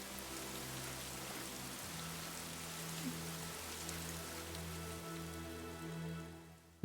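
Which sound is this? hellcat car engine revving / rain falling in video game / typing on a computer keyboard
rain falling in video game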